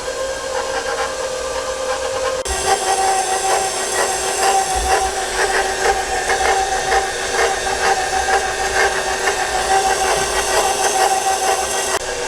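An electric mixer runs steadily through ginger cookie batter with a continuous whirring drone and a faint high whine, growing a little louder after a couple of seconds and holding constant, close up with no voices.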